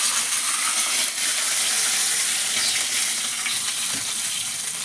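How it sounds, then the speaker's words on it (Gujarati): A mustard seed and cumin tempering sizzles loudly once water goes into the hot pan, a close, dense and steady hiss with faint stirring underneath. "જો વઘાર નાખ્યો છે રાઈ જીરાનો અને થોડુંક પાણી નાખી દેવું"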